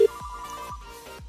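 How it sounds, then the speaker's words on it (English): A phone rings during a call, sounding a repeating electronic ringback tone in short regular pulses over a faint background. "now you can actually hear my phone calling"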